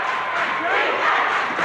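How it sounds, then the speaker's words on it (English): A basketball crowd at a 1998-99 boys high school game, Upper Dauphin against Milton Hershey, roars in a loud, sustained wash of cheering and yelling that fills the gym without a break. "the crowd is with it over there. They are going berserk"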